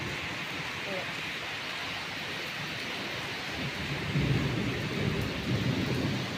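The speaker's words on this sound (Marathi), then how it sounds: "तोपर्यंत हा पाऊस असा धो पडतोय." Heavy unseasonal rain pours in a dense, constant hiss with low thunder rumbling beneath it, steady throughout and growing slightly louder toward the end.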